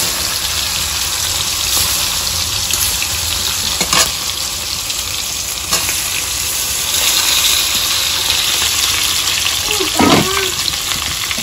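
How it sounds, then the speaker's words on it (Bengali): Fish coated with salt and turmeric frying in hot oil makes a loud, continuous close sizzle, broken by a few sharp crackles and a brief watery splash near the end. "তেলটা গরম হয়ে গেছে ওরা মাছটা দিয়ে দেব"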